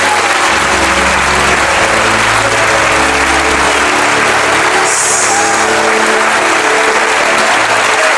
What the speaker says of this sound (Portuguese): Eu queria que a igreja desse uma salva de palmas por isso